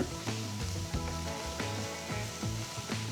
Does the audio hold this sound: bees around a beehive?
no